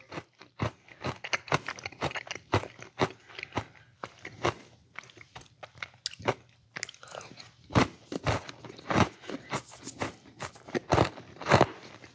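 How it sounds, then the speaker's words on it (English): Close, loud bites and chewing on a rock-hard, peanut-buttery Butterfinger candy bar, with sharp crunches repeating in an irregular rhythm throughout and no talking. "I'm getting plenty of that brutal, rock solid, peanut buttery crunch"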